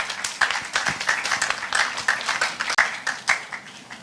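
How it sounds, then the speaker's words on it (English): A small symposium audience of youths and school groups applauding themselves, a loose patter of individual claps close by, irregular and uneven, carrying on for several seconds. "You also give yourselves a round of applause."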